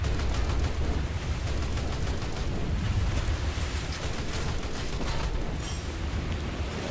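Naval gunfire in a War Thunder ships battle at night: a dense, steady barrage of cannon and gun blasts with a heavy rumbling low end that continues without a break, loud and close, and no talking.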